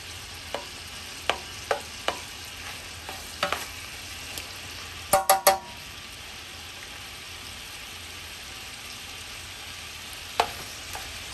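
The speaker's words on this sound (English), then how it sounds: "Move all this around so I can get the sausage to start browning here." Sausage browns in a pan for jambalaya with a soft steady sizzle, broken by scattered sharp clicks and scraping taps as the pieces are stirred and moved around, including a quick cluster of knocks midway.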